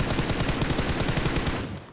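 Rapid automatic gunfire in the battle royale game BGMI, a dense continuous burst of loud rhythmic shots at close range that cuts off abruptly at the end.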